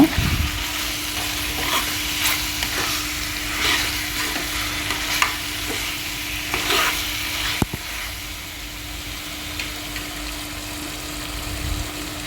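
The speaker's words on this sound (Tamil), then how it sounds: "மசாலா நல்லா ஸ்ப்ரெட் ஆகிற அளவுக்கு நல்லா வந்துட்டு பார்த்திங்கன்னா நல்லா கிண்டி விடுங்க சிக்கனை" Chettinad chicken chukka being stirred with masala in a pan, with a steady sizzle and repeated scraping strokes of the spoon throughout, close and fairly loud, with no talking.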